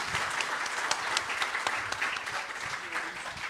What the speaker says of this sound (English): Give us a round of applause and thank you to the speakers.